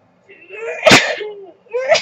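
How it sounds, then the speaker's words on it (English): A single sharp sneeze bursts out between short breathy vocal sounds, close and loud, with a quick intake of breath before it. "Oh, I'm gonna sneeze."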